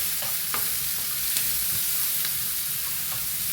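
Crushed garlic and green chillies fry in hot oil in a pan, a dense continuous sizzle close by, broken by a few light scrapes and taps of a stirring spoon.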